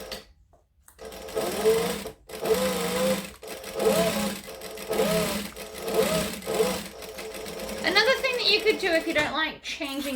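A sewing machine runs in repeated stitching bursts through fabric, each run a steady mechanical whir separated by brief pauses, with a voice talking over parts of it.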